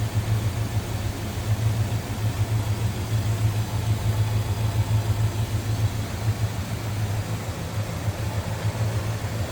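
A 1965 Plymouth Barracuda with a 2-barrel carburetor idles smoothly and steadily, a low even engine hum close by with no talk over it.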